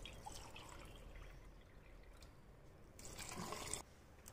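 Water pours and trickles into a rice cooker, faint and continuous, swelling briefly louder near the end.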